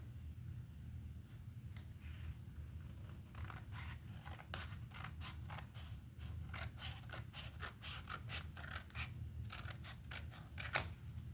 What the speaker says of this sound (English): Let me cut around this piece.